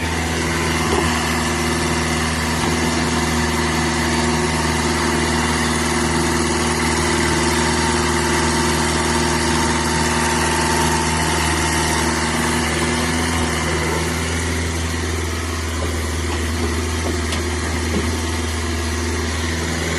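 An IHI mini excavator's engine idles steadily nearby, a loud constant diesel drone with an even low hum and no change in pace for the whole stretch.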